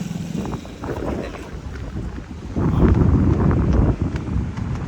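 Wind buffets the microphone on a family road trip to Daman, a low rumbling gust that rises and swells partway through.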